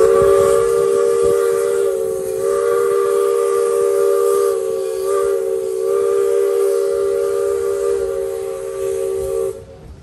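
A steam locomotive on a heritage railroad blows a long, loud, steady whistle that holds for nearly the whole time, then cuts off near the end, over the rumble of the running train.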